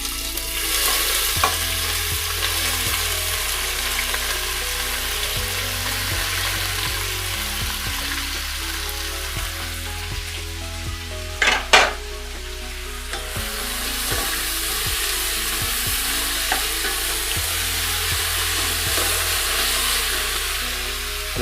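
Chopped onions frying in oil for chicken rara, a steady loud sizzle that continues throughout with the spoon scraping and stirring through the pan, and a brief sharper clatter just after halfway.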